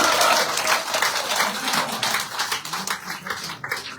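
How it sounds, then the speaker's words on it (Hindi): Loud applause from a political gathering in Poonch, where supporters welcome a Congress leader joining the BJP. Dense, steady clapping fills the whole clip and eases slightly toward the end. "जोरदार तालियों के साथ"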